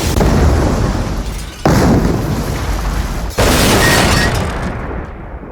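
Three loud, rumbling cartoon explosions in Family Guy, each a sudden burst that decays into a long roar before the next hits, ending abruptly.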